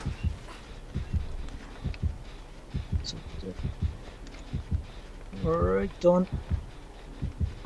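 A heartbeat warning in a video game signals an approaching attacker near a hook. Steady, evenly spaced low thumps run throughout, with brief spoken words near the end.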